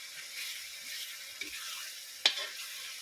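Spices dropped into hot oil fry with a soft, steady sizzle, quiet and close, with a single sharp crackle partway through.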